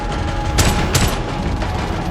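Gunfire in a tense hostage-rescue action film scene against ISIS fighters, a sustained din of shots with two sharp loud bursts close together, no talk over it.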